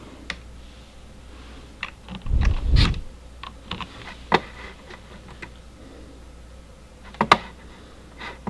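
Computer keyboard typing in sparse, irregular clicks with a short thumping cluster early on and a few sharper taps later, quiet and close, with no voices.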